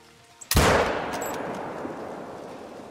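Hunting rifle fired at a whitetail buck in the game Call of the Wild, a single sharp, loud shot about half a second in, followed by a long rolling echo that fades slowly, no talk.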